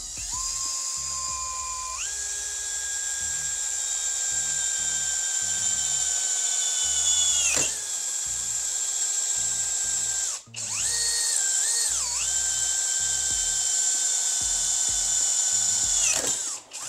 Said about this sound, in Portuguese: Agora eu furei numa velocidade muito alta, vou colocar numa velocidade mais baixa,